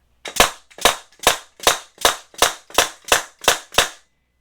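Ten sharp, evenly spaced bangs from a nail gun driving nails rapid-fire into rosewood, each a loud crisp crack with a short decay, close by and otherwise quiet.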